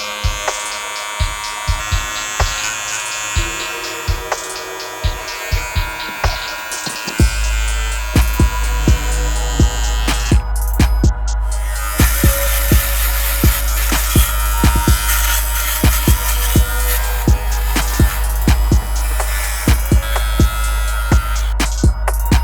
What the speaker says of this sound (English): But first, hair clippers.